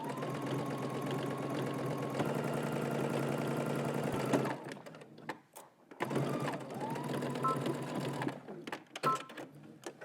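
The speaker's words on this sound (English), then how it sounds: "We're gonna stitch using 5/8 of an inch seam allowance all the way around." Sewing machine stitching a garment seam with a 5/8 inch allowance, a close steady whirring hum in two long runs separated by a brief pause with small handling clicks.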